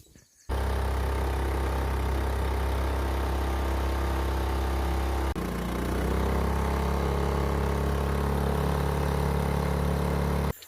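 A boat engine runs steadily at a constant low throb, close and fairly loud, with a brief dip in the middle and no talking.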